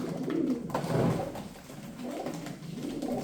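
Soft, low pigeon cooing repeats in gentle rolling phrases, close by, with a faint background hum.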